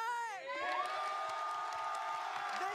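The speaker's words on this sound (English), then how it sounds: "This crowd is hyped up" A high school student section cheers and whoops at a football game, a bright swell of young voices shouting together, fairly distant and sustained, with one voice sliding up and down at the start.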